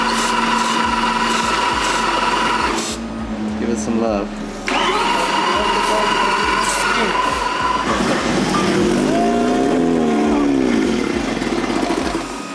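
A Porsche Carrera GT fitted for twin turbos cranks and attempts to start, a loud rough mechanical churning with a rhythmic clatter and whine that swells and drops, while people talk nearby.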